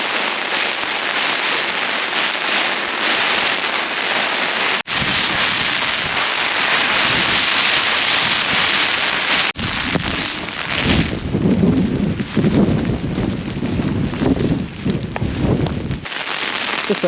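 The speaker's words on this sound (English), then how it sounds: "incredible gusts of wind, lashing with rain, and I thought the tent was going to be a goner" Heavy rain and strong gusting wind batter a Helm Compact 1 tent at a wild camp in the Peak District, a loud, unbroken roar of drumming drops and buffeting that surges and shifts throughout.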